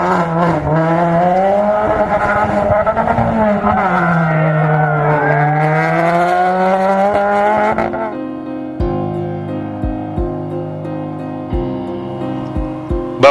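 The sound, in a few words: 1600cc Peugeot 207 rally car driving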